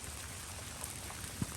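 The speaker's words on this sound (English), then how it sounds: "Now the rain really started to come down again." Heavy rain pours down outdoors over a cattle escape lane, a steady, fairly faint hiss of falling drops with a brief soft thump near the end.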